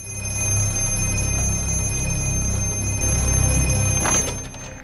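A payphone rings insistently in a horror film scene, a sustained metallic bell tone over a low rumble, loud and near, with a brief sharper burst near the end.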